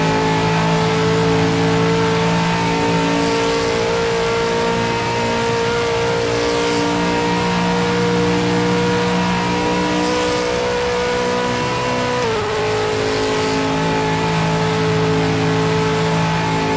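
Corvette race car engine in a racing video game, a loud sustained high-revving drone held at near-constant pitch with a brief dip and shift partway through, no talking over it.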